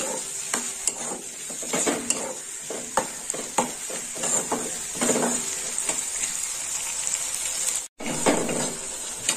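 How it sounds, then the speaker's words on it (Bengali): Onion sizzles in hot oil in a pan for a prawn curry, a constant close hiss broken by repeated clinks and scrapes of stirring and a brief gap near the end. "দিয়ে দিলাম পেঁয়াজ। পেঁয়াজটা লাল লাল করে ভেজে নেব।"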